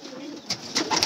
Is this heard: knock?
no